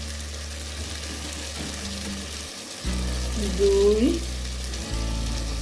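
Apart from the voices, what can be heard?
frying in white oil while cooking chicken khichuri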